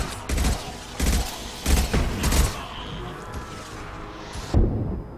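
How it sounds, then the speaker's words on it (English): Rockets fired at the player in Mass Effect 2 land as a series of heavy, separate blasts and booms, loud and close, spaced a second or so apart with rumbling between them. "Please stop shooting me with rockets."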